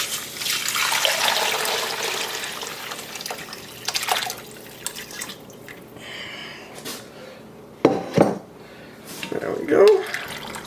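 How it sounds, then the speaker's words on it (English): Homemade beef broth with bones and peppercorns pours through a strainer, a gushing liquid rush that thins to trickles and drips, broken by a few clanks and handling noises. "So now we're just going to pour it all through the strainer."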